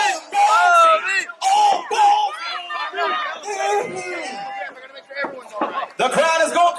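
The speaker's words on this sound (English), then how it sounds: "The crowd is going crazy for Bovey." Wrestling match crowd at Monday Night Comptonmania roars and chants in loud bursts, a dense mass of voices swelling and dipping across the arena.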